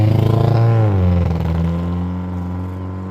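Honda Civic engine stuttering with a suspected spark misfire, heard up close as a low, uneven pulsing idle that sags in pitch and settles into a rough, throbbing drone.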